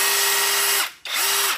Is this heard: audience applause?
no